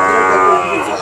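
A cow at a cattle market gives one loud, close, drawn-out moo lasting about a second.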